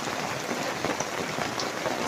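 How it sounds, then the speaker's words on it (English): Heavy rain pours steadily onto a garden gazebo in a wild garden in Stafford, a loud, dense, continuous patter close by with no voices. "we're having rain."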